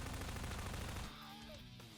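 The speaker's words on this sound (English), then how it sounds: "let's go on for a more standard shooting up a wall thing" Gunfire in Garry's Mod, a dense burst of rapid synthetic shots aimed at a wall, loud and continuous for about a second before cutting to quieter trailing ambience.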